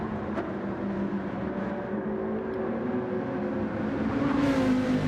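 A Viper race car engine in a racing video game holds a steady, droning whine with shifting tones, running continuously and fairly loud throughout.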